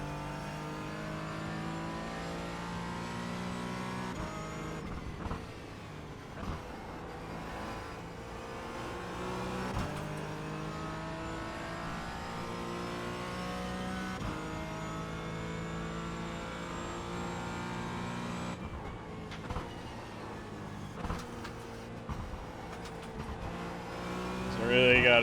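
A Porsche Cayman GT4 race car laps Brands Hatch, its engine revving up and down through the gears in long rising and falling sweeps, a steady onboard drone with occasional shifts, while a driver talks over it.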